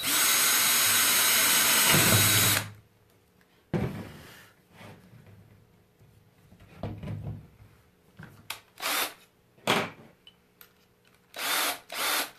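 Power drill driving black drywall screws into wood: a loud whirring burst at the start, then several shorter drill runs with pauses, light handling clatter and rubbing between them.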